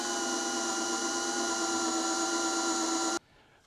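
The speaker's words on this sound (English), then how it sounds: "Make sure I don't drill through the cable, eh?" A power drill whines steadily while boring into an aluminium boat, running at constant pitch for about three seconds and then cutting off abruptly into near silence.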